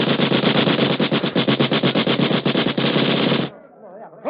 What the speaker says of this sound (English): Salvador, bring that machine gun.